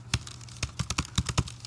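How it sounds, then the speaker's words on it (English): Keys on a computer keyboard clack in a quick, uneven run of crisp taps, close and fairly loud, with no voices. "so I'll just type something new here."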